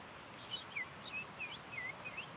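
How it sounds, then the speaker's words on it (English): A thrush sings in a backyard, giving a quiet series of short, bright whistled phrases repeated in quick succession with no other sounds. "So if the thrush is singing in your yard,"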